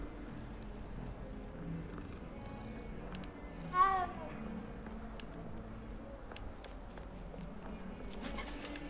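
A cat meows once during a petting cutscene in Hogwarts Legacy, a single short rising-falling call over a steady low game soundtrack.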